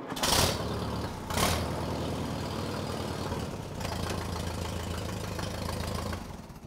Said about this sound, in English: 1952 Alice Chalmers WD. This is a style of tractor I grew up on in the 60s and 70s.